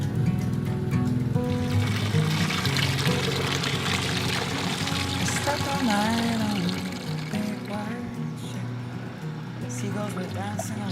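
Water pours steadily into a 1950s washing machine, a continuous splashing rush that stays loud for several seconds, with a voice and background sounds mixed in.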